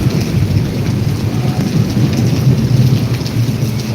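Heavy thunderstorm rain pours steadily in Emmiganur, a dense constant hiss with a deep rumbling of thunder rolling underneath throughout, loud and close with no voices.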